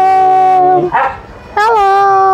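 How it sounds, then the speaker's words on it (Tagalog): A two-month-old Maltese Shih Tzu puppy gives loud, high-pitched yelping barks close by: a sustained cry, a short pause, then another drawn-out yip. "Two months old. Maltese Shih Tzu."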